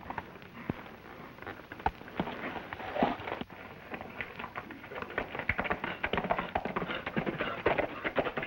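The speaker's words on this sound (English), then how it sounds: "I thought that was his horse." Irregular tapping clip-clop of horse hooves on a hard surface in a 1950 Western film, moderately near, with faint bird-like chirps in the background.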